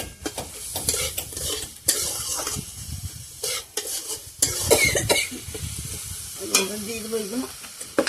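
Fish patties fry in a pan with a steady close sizzle, broken by repeated scraping and stirring strokes of a utensil and occasional clinks against the cookware.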